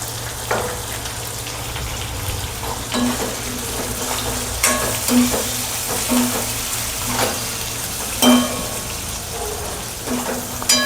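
Onion softens and fries with turmeric in a pan for kanda pohe, a steady close sizzle running throughout, broken by irregular scraping stirs and sharp clinks of a spoon against the pan.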